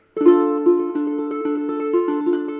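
Plucked ukulele notes with chords added on top, strummed in a steady, bright rhythm, close and clear with no talking.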